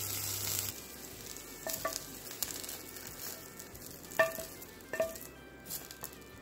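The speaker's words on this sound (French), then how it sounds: "J'ai chauffé ma poêle et ensuite j'ai mis les lardons et je viens remuer de temps en temps" Lardons fry in a hot pan with no added fat, giving a quiet sizzle with occasional clinks and scrapes as they are stirred now and then, close and fairly soft.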